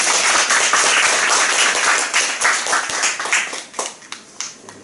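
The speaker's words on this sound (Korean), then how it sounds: "우리 박수 한번 할까요?" Congregation at a Korean church revival and prayer meeting claps for a Gloria vocal ensemble after its praise song, a dense, loud burst of many hands that thins out toward the end.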